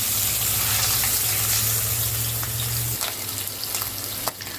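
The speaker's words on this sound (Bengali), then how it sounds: "তেল ভালোভাবে গরম হয়ে গেলে এর মধ্যে আমি দিয়ে দিচ্ছি মাছগুলোকে। মাছগুলো খুব হালকা করে ভাজতে হবে, কারণ এটা ইলিশ মাছ।" Hilsa fish pieces frying lightly in hot mustard oil make a loud, continuous close sizzle, with occasional sharp pops and spatters toward the end, and no voices.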